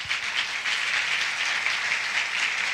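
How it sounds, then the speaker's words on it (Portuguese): A church congregation applauds the mayor during a thanksgiving service, steady dense clapping filling the room at an even level from start to finish. "A gente vem com um aplauso do nosso prefeito."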